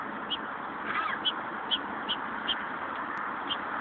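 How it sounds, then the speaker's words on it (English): Short calls repeat at a steady pace over a constant hiss, sharp and fairly close. "Sounds like a bird."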